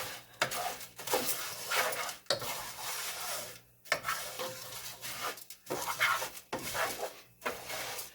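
Vegetables being stirred in oil in a pan, with a low sizzle and bursts of spoon scraping in irregular strokes separated by brief pauses, close by.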